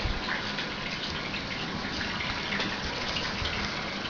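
Water gushes steadily through an open plumbing valve held open in override mode, a continuous, even rushing hiss with no pauses.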